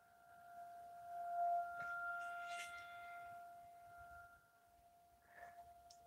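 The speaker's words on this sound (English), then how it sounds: "Sorry about that siren sound" Wailing outdoor siren, a steady sustained tone with a rising swell that peaks early then fades and lingers faintly in the distance, heard alone without talk.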